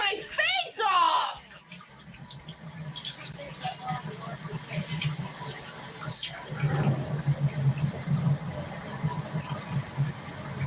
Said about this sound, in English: The water hasn't been on that long.